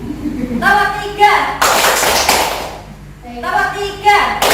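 A group in a classroom-style session clapping hands in short counted bursts, sharp clustered claps separated by a teacher's spoken instructions.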